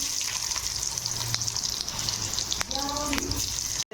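Chopped onions fry in oil in a kadai, giving a steady, soft sizzling hiss throughout with a few clicks from stirring. A voice speaks quietly nearby.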